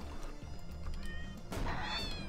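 A cat meows in the space game Fowl Space: a few drawn-out whining meows over a noisy, rumbling game background, with a louder, higher yowl near the end.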